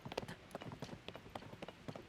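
Video game horse hooves clip-clopping in quick, uneven strikes, a faint steady trotting patter with no talk over it.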